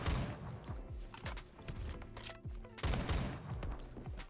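Rapid bursts of gunfire from Roblox Phantom Forces, a secondary weapon firing repeated sharp shots in clusters with loud, close reports over a busy game soundscape.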